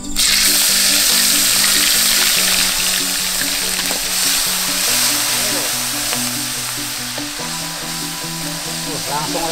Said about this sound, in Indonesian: sekarang langsung aku goreng guys bumbunya